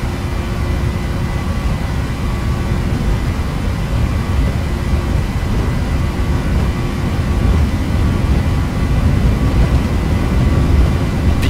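Steady, loud roar of a Pegasus Airlines jet on its takeoff roll in Flight Simulator X, a dense broadband engine rumble with a faint whine that holds constant throughout, no talking.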